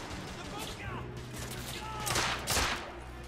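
Gunfire from the video game The Order 1886 rings out as several quick shots with echoing tails, spaced irregularly beneath faint background game sound, with a voice talking at points.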